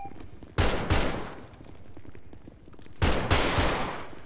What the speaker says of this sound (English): Fired, gun fired. Copy, shots fired.